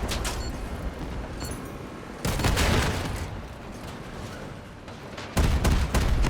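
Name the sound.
cannon and artillery fire in a video game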